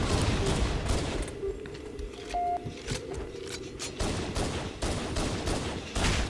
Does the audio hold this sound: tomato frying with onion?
no